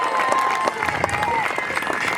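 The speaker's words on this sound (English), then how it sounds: "let's give a huge round of applause to the Parks and Recreation Department for putting this on." An outdoor crowd at a bike trial stunt show applauds steadily, with scattered cheers and voices mixed into the clapping.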